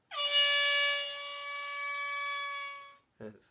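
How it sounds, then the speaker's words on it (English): A single long air horn blast from a sound effect toy, loud and steady for nearly three seconds before cutting off, followed by a brief spoken voice. "Air horn."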